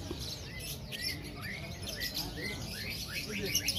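Several male canaries chirp and trill faintly in quick, overlapping bursts, with a low background murmur underneath.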